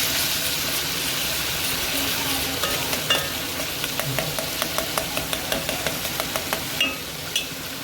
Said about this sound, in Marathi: मग आपण टोमॅटो टाकूया कट केलेले. टोमॅटो थोडंसं परतून घेऊया छानपैकी.